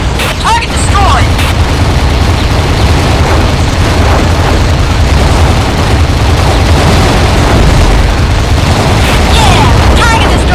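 Repeated booming underwater explosions from destroyed targets in the AquaNox submarine combat game, loud and dense, layered over a constant low rumble with sharp bursts throughout.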